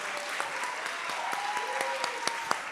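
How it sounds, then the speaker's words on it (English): Applause breaks out for the AI inclusion team at an EdTech hackathon's final presentations, a steady wash of clapping with a few sharper claps standing out and faint voices and whoops underneath. "Please clap your hands for AI inclusion."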